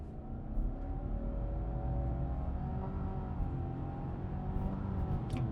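A Subaru Outback Touring XT engine roars steadily as the car launches hard from a standstill, a dense, continuous drone with rising tones that holds loud and close for several seconds without a break.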